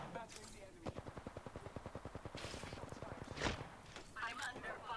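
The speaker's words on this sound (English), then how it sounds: "I'm under fire." Rapid automatic gunfire in Apex Legends, a steady stream of evenly spaced shots firing for a couple of seconds, followed by a louder burst and scattered game effects, with a voice speaking over it.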